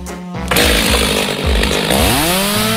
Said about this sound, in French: Je vais avoir besoin d'une bonne protection et de ma tronçonneuse préférée.